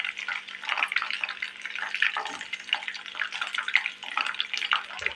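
Chicken pieces sizzle in hot oil on a gas stove, a steady crackling hiss with small bubbling pops, close and moderately loud.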